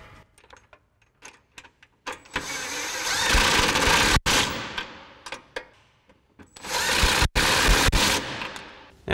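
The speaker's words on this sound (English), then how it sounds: "Next, we'll grab our 10mm socket on our impact and our 10mm wrench and tighten down our support" A pneumatic impact wrench with a 10mm socket tightening bolts on a support bracket while installing running boards on a 2010-2023 RAM 2500 pickup, in several loud rattling bursts separated by short pauses.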